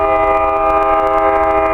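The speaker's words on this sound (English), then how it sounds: "Alright, train, come on by." A train rumbles steadily past close by, a sustained horn-like tone ringing over the heavy rolling noise throughout.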